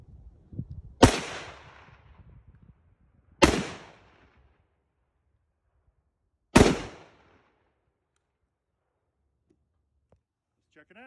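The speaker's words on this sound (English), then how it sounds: "now we're gonna shoot the 308 HK91" Three sharp, loud rifle shots from a .308 HK91 ring out at a shooting range, spaced a few seconds apart, each a sudden crack followed by a short decaying echo, with quiet between them.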